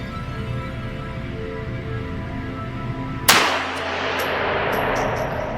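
A single sharp, loud gunshot from a Tisas Fatih 380 pistol cracks close by midway through, followed by a ringing decay and faint metallic pings, after a steady background hum.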